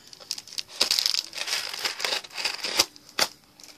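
A blade slices open a cardboard box, giving short, close crinkling and tearing scrapes in quick irregular bursts, fairly quiet and with no talking.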